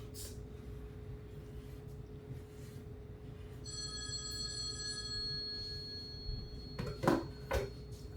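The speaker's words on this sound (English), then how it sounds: "whoever is calling my other phone, they can just wait." A telephone rings in a kitchen, a steady electronic tone lasting a few seconds over low room noise, followed by a couple of sharp nearby clatters.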